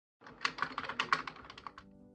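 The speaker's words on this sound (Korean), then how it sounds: "길잡이 영혼의 말을 바로 타이핑하기 시작했다" A quick run of close keystrokes on a computer keyboard, about a dozen crisp taps in an uneven rhythm, fairly loud and alone, then stopping into a faint hum.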